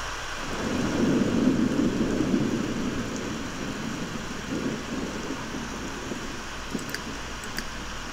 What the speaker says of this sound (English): Just a thunderstorm.